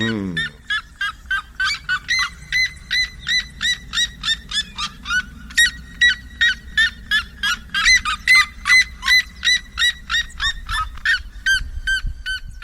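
A pair of seriemas calls in duet, a long series of loud, rhythmic honking yelps repeated in even pulses, overlapping and building over a low background hum.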